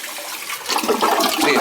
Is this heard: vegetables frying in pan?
no